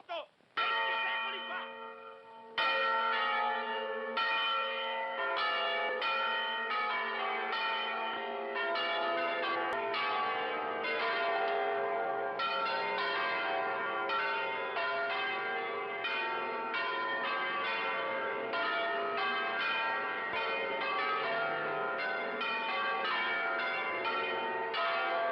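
The bells of Portogruaro cathedral ring in a long, repeated peal, struck tones overlapping in a steady rhythm and carrying loud and resonant for the whole stretch, with no voices.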